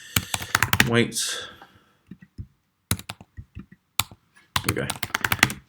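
A search phrase is typed on a computer keyboard in short, close bursts of rapid clicking separated by pauses, with a brief whooshing sweep early on.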